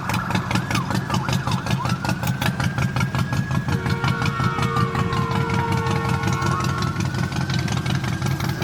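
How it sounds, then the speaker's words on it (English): Low, rhythmic engine chugging of a Harley-Davidson motorcycle carries through the whole stretch, fairly loud and steady with a faint whistling tone above, heard from a car during gig delivery driving. "I hear a Harley."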